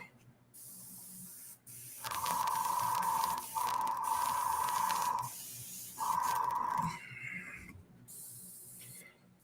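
A paint airbrush hisses in long bursts of about a second or more, with short gaps between, close and steady, while laying flesh base tones on a figure.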